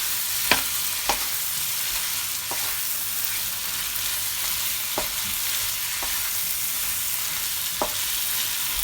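Jamaican peppered shrimp fry in a pan with a steady bright hiss of sizzling, broken by a few sharp clicks of a utensil stirring against the pan.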